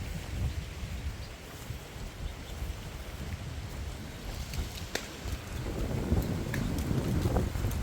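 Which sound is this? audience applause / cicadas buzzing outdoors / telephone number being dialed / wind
wind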